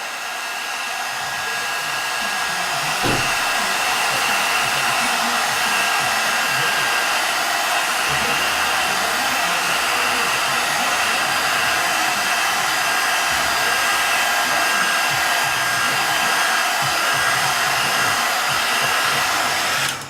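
A hair dryer dries a painted wooden craft piece, a steady, loud airy whir that runs continuously for about twenty seconds with no talking.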